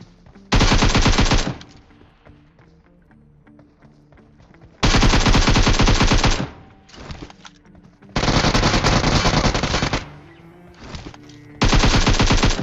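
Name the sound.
gunfire in the video game PUBG Mobile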